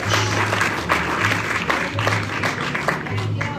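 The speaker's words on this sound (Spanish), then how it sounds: "Denle otra ofrenda, aplauso al Rey." A church congregation claps during a Spanish-language worship service. The applause is steady and fairly close, with periodic low tonal bursts and what sounds like a voice or instrument cutting in now and then.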